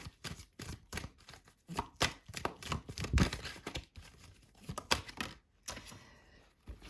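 Playing cards handled and drawn from a deck during a card reading: close, crisp rustles, flicks and soft slaps in irregular bursts, with no talking.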